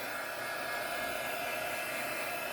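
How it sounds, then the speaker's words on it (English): An embossing heat gun blows steadily while drying paint, a continuous close whooshing hiss at even loudness with no pauses and no talk. "I'm going to use my heat gun. It dries it up real fast."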